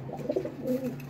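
Pigeons cooing at a breeder's loft in Lahore, a soft, close, rolling coo repeated twice in quick succession over low background hum.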